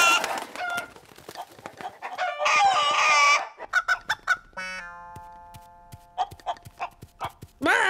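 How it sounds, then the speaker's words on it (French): Cartoon hens socialize in a kitchen, clucking, squawking and honking in busy overlapping bursts, with a long rooster-like crow and sharp clucks punctuating the clamor, loud and close. "Des poules bitumeuses de différents groupes sont en train de socialiser dans la cuisine"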